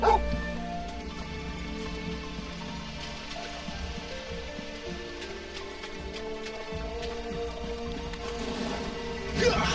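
A dog barks and yips in Final Fantasy XVI, repeated short barks over steady game music and falling rain.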